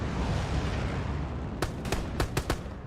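Several sharp gunshots in Hell Let Loose, a World War II shooter game, crack out in a quick irregular burst of about five over a steady rumbling battlefield background, with the closing shots landing close together.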